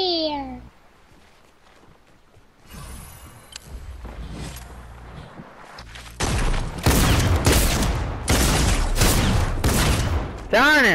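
Shotgun blasts and other gunfire during a Fortnite match, starting quiet and sparse, then a cluster of loud booming shots in the second half, with a voice speaking among them.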